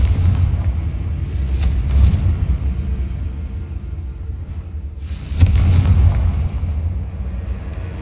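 Two heavy, rumbling booms from the Confringo explosion spell in Hogwarts Legacy, spaced a few seconds apart over a low, continuous game rumble.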